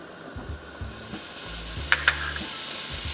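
Olive oil and butter sizzle in a skillet with a soft, steady frying hiss, broken by a few low knocks and two sharp clicks near the end, with no one speaking.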